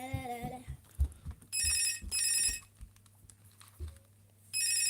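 A phone rings in repeated electronic bursts of bright, buzzing tones, three rings with pauses between, close and fairly loud over light background knocks and thuds.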